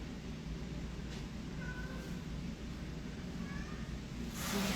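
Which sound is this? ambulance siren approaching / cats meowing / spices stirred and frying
cats meowing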